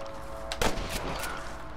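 Gunfire in Red Dead Redemption, one sharp shot standing out about midway through a short stretch of steady game background noise, with no one talking.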